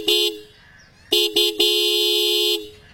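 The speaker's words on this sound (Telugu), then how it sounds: "అలాగే హార్న్ అయితే ఉంది. హార్న్ యొక్క లౌడ్నెస్ అనేది ఒకసారి చెక్ చేద్దాం." The horn of a 2024 Bajaj Pulsar 150 motorcycle blares loud and close in four honks: a short toot, a long pause, two quick beeps, then one long sustained blast.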